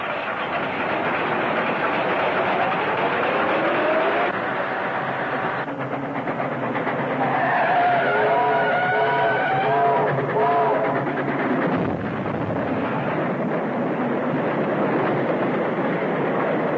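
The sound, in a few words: train passing at a railroad crossing, film sound effect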